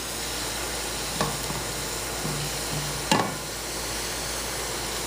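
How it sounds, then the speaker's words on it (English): Steady sizzling of garlic frying in butter in a pan, with a couple of brief clinks of a utensil against the cookware. "you're doing the frying this in butter"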